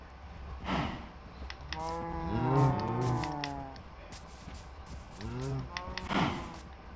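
Cows in the game Minecraft lowing in several drawn-out moos, some overlapping, fairly close with quiet gaps between calls.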